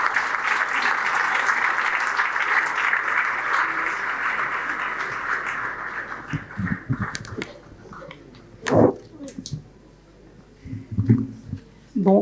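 A hall audience applauds to welcome two speakers, a full steady roar of clapping that fades after about six seconds into scattered claps and a few thumps and murmurs.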